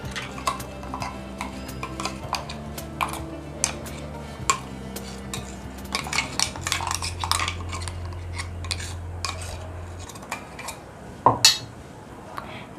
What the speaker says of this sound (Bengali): তার মধ্যে যে আমি সর্ষে, পোস্ত আর কাঁচা লঙ্কার পেস্ট বানিয়ে রেখেছিলাম সেটা আমি প্রথমেই চামচের সাহায্যে টিফিনের মধ্যে দিয়ে দেব।